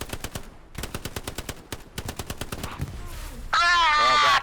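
Rapid bursts of automatic gunfire from a battle in a video game, close and loud in a fast rhythmic stream, with a shouted voice over the shooting and a blaring, alarm-like tone at the end.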